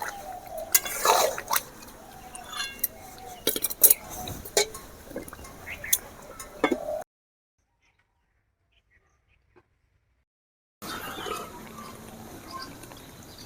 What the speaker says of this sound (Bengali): মাংসটা আমি আস্তে আস্তে করে নেড়ে নিচ্ছি যাতে না নিচে বসে যায়।